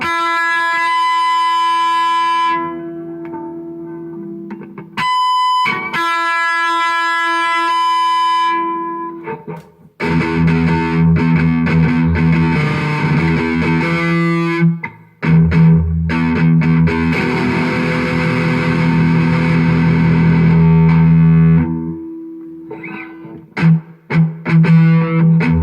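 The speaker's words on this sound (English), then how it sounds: "You can even put distortion on the bad boy." Electric guitar harmonics played through distortion, ringing bell-like sustained tones that start, cut off and restart, with a long loud overdriven stretch in the middle and choppy short bursts near the end.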